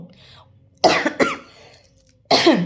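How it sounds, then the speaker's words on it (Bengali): Three harsh coughs, one pair in quick succession and another after a pause, close and fairly loud. "ফট করে আমার কাশি উঠলো"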